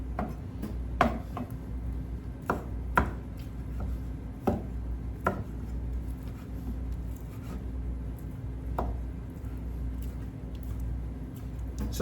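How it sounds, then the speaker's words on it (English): A knife chops saltfish and shrimp on a board in irregular, sharp taps, some louder than others, close up over a low steady hum. "I'm chopping them up small chunks."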